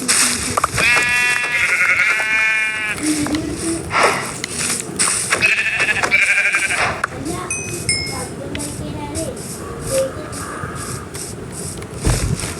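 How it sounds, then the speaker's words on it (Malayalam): A goat bleats in the Minecraft survival game, a few loud wavering calls in the first seconds, followed by game sounds and clinks while someone talks over much of it. "ആടിനെ കണ്ട്. ആട്"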